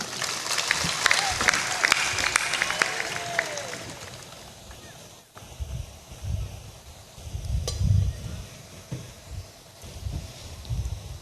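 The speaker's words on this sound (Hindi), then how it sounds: "साहिब बंदगी बोलो, ताली बजा दो एक बार।" Congregation at a Hindi spiritual discourse claps together in a brief burst, the clapping fading after a few seconds into rustling, low murmurs and handling noise.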